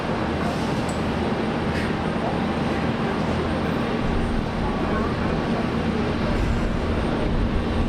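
A Dash 8 turboprop airliner rumbles on runway 01 right at Brisbane Airport, a continuous droning engine noise holding steady throughout with low voices faintly underneath.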